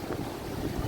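Strong wind roars steadily against the microphone on the island of Siquijor after rain, a dense, close rumbling buffet with no voices.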